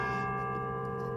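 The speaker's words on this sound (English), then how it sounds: "The chimes go off every 15 minutes." A university tower clock on the UT Tower sounds its quarter-hour chimes, a sustained ringing bell tone with steady overtones that fill the moment evenly, heard without speech.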